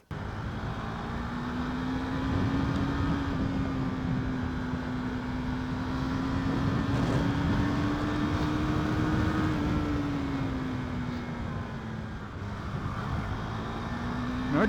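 A KTM Duke 390 Gen 2 motorcycle engine drones steadily and loudly up close, its pitch rising and dipping slightly as the throttle is worked, with no one speaking over it.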